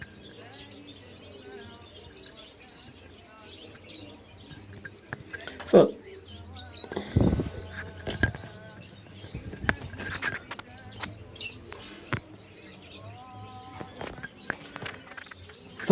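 Assorted caged birds chirping and tweeting in a bird shop at a market, scattered calls and short trills over a busy background with footsteps and someone speaking nearby.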